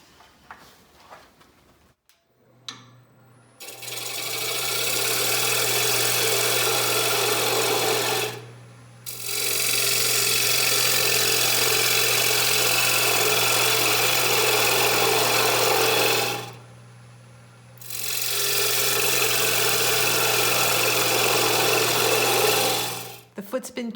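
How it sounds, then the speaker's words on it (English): A parting tool cuts down the foot of a cedar container spinning on a wood lathe. Three long, steady scraping runs are separated by brief pauses over a constant motor hum, close and loud, with no talking. "I'm going to turn the foot using my parting tool just to take this down about 1/4 inch down to 2 inches."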